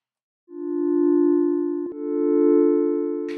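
Soft, bright FM pad from Ableton Operator, two sustained tonal notes with clean overtones, the second following a short pitch change, each swelling smoothly, then the tone rings and fades slowly after release, with no voices.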